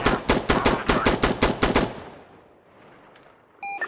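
A-10 Warthog cannon strafing run in Insurgency Sandstorm on Xbox One S: a rapid, loud burst of heavy gunfire pulsing for about two seconds, then cutting off into a fading rumble and faint tones.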